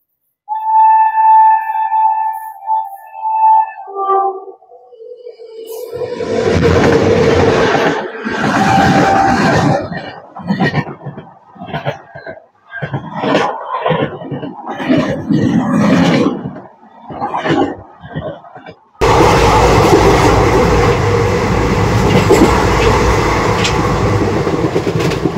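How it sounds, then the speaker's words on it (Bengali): The 22967 Prayagraj weekly superfast express from Ahmedabad rolls into a station in India, a loud close rumble with rhythmic clattering wheels, followed by a steady roaring wash as the carriages pass. "আরো একটি এক্সপ্রেস আসছে 22967 প্রয়াগরাজ উইকলি সুপারফাস্ট এক্সপ্রেস"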